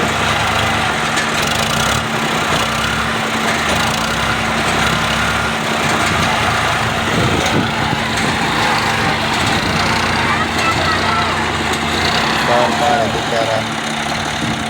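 An Al-Ghazi tractor labours to pull a sand-laden trolley out onto a road from a rough dirt track, its diesel engine droning loudly and continuously with a steady hum while someone talks over it.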